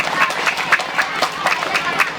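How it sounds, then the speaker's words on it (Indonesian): A crowd at an elementary school sixth-grade farewell ceremony claps for the organizing committee and teachers, with dense applause and sharper individual claps standing out, plus faint voices underneath. "Tepuk tangan untuk panitia dan guru-guru semua."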